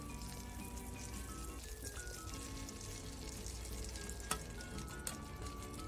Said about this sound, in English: and saute it for few minutes